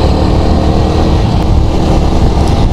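Steady, loud engine drone from a Yamaha YZF R15 V3.0 motorcycle, running continuously and close by with a dense, even rumble and no voices.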